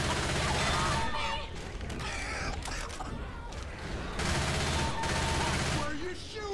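Dense gunfire from the co-op zombie shooter Left 4 Dead 2 in a versus match, bursts of shots and clatter running throughout with short lulls, loud and close, while players shout over it.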